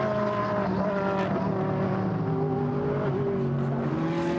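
A GT race car accelerates hard at the Paul Ricard circuit during a Blancpain GT Sports Club race, its engine note sustained and climbing steadily, loud and close, with no gear shifts.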